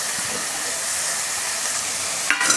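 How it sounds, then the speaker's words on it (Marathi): Fenugreek leaves and chopped tomato sautéing in hot oil, giving a continuous loud sizzle and hiss with a burst of spoon scraping near the end; no voices. "आता मेथी पण ह्या तेलावर छान अशी परतून घ्यायची एकदा।"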